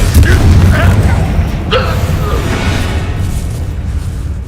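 A heavy Confringo spell explosion in Hogwarts Legacy booms up front and rolls away into a long, fading rumble, while a voice talks over the opening moments.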